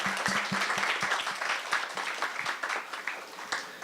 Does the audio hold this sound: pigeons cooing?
no